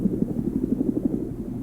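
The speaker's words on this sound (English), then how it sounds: "looks like I'm about to jump out of another helicopter" A helicopter in the Minecraft video game gives a steady, low, throbbing rotor chop with an even pulsing beat, moderately loud and heard alone.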